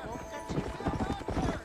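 Horse hooves clip-clopping in the game Red Dead Redemption, a quick run of close, rhythmic hoof beats over a short moment, with some voice-like sound mixed in.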